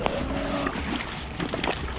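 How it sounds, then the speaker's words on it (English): A low, steady boat engine rumble drones in the background with faint wind noise over it, distant and continuous, in Prince William Sound. "You can hear those engines rumbling now."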